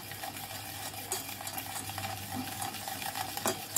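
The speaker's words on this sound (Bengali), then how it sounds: "খুব ভালো করে মিশ্রণটা মিশিয়ে নেব" Condensed milk mixture being stirred in a pan on an unlit stove, a steady close scraping and swishing of a spoon against the pan bottom with occasional light clinks, no talking.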